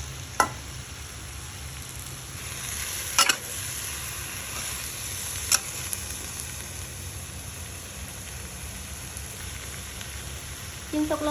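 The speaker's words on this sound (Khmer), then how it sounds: "ឆាចុះឆាឡើងរហូតតតែសាច់ឆ្អិនហើយបានខ្ញុំដាក់ត្រឡាចចូល" Pork and ivy gourd stir-frying in a hot pan, a steady low sizzle running throughout with a few sharp utensil clinks against the pan, nearby and moderately quiet, no talking.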